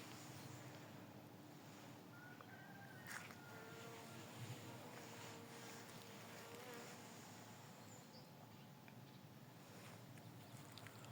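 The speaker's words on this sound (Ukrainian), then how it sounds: "Сьогодні тепло, так багато бджіл літає." Many bees buzz steadily around a garden on a warm early-October day, a continuous soft hum of insect wings close by with no voices.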